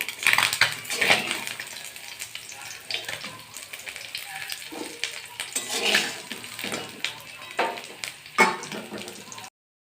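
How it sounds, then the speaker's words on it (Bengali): Small chuno fish frying in a pan of oil, with a steady sizzle punctuated by clinks and scrapes of a utensil against the pan, fairly close with no talking. "মাছগুলো ভাজা হয়ে গেছে এবার আমি তুলে নেবো"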